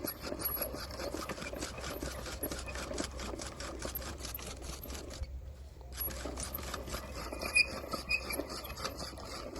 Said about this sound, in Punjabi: ਟੋਕੇ ਦੀ ਹੈਲਪ ਨਾਲ ਸਾਗ ਕੱਟਿਆ